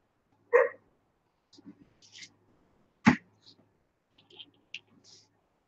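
A new dog gives a short yelp and a few soft whimpers, with brief scuffs and clicks between them, close by and fairly quiet.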